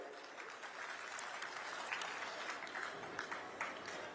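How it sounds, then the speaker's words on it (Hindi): A crowd at an outdoor political rally claps steadily, a dense continuous wash of hand claps from many people at moderate distance. "और एक बार आप मन ताली बजाओ भाई"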